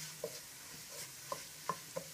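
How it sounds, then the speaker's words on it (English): Garlic being stirred in a pan for a chicken curry, with a handful of soft, scattered scrapes and light clicks of the spoon over a faint sizzle, fairly quiet and with no talk. "Just put that in, give that a good stir."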